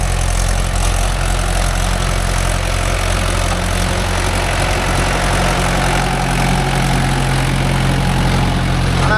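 A Mahindra 415 DI tractor running with a rotavator among coconut trees, giving a loud, steady, close diesel chug with a low knocking throb that holds constant throughout.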